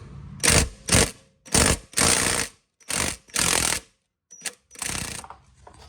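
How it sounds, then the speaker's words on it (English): An impact gun hammers at a lower ball joint bolt on a Ford Falcon BA/BF XR6, tip pressed directly onto the bolt; about eight loud, close rattling bursts of varying length are separated by brief pauses. "The bolt's too long for the socket to fit on with the gun, so I've just put the tip of the gun in."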